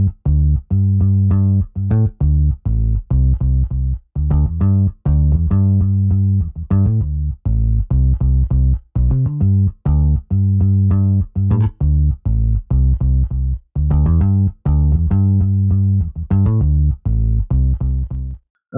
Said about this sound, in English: Then for the bass line, it sounds like this.